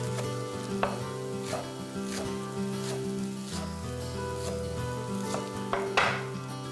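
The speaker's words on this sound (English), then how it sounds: "Just cut up a little more green onion to top off my dish." A knife chops green onion on a board in a home kitchen, making a regular series of sharp taps over a steady sizzle of cauliflower lentil fried rice cooking in a pan, with no talking.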